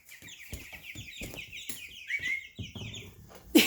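A single baby chick cheeps in rapid repeated high peeps close by in a brooder, with scattered soft knocks and rustles and a sharp bump at the end.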